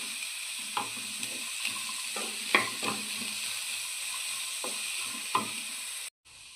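Bitter gourd sautés with asafoetida in a pan, a steady close sizzle broken by a few clinks and scrapes of stirring, then cutting out abruptly near the end.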